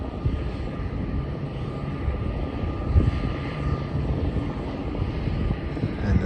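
Jet airliner taking off at Melbourne Airport, heard as a steady, broad engine roar that holds throughout at moderate loudness from a distance, with no talk.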